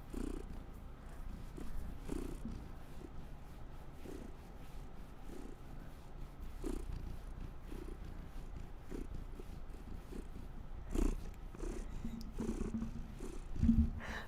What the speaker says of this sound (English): And he's so quick to purr.